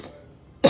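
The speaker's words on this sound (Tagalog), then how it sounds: "Ubo ng ubo." A single short, harsh cough bursts out at close range right at the end, after a near-silent pause.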